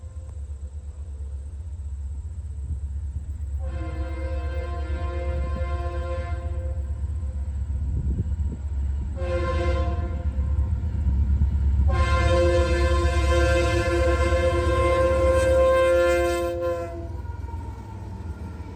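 A Leslie RS3L horn on locomotive 6957 sounds in three blasts, a short one, a brief one and a longer final blast, over a steady low rumble of the train, with no talk.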